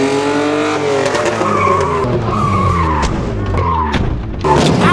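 A BMW pulled by its handbrake into a tight gap between two parked cars, loud close tire squeal and roaring engine revving and shifting in pitch over several seconds, no talking.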